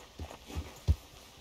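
Horse hooves clip-clop in the video game Red Dead Redemption 2, three soft separate thuds at a walking pace, low and moderately close with no talk over them.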